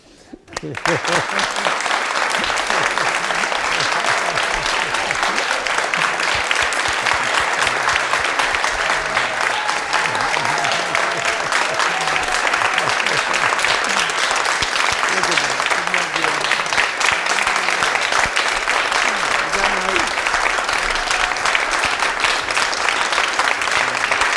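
Concert audience giving sustained, dense applause after a cello concerto performance, a steady loud wash of clapping that starts abruptly and continues unbroken, with faint voices beneath.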